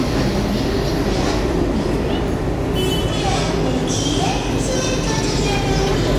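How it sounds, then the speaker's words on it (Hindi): Gomti Express train at Lucknow station, a loud continuous rumble of rolling rail cars with clattering wheels and brief metallic squeals, close by over busy platform noise and voices. "ये देखिए गोमती एक्सप्रेस"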